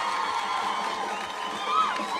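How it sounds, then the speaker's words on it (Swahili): Students at Njiru Mixed Day Secondary School cheering and whooping for their MP at a presidential school opening, a loud, continuous crowd roar with youthful shouts rising near the end. "Nataka tupigie mjumbe wenu makofi"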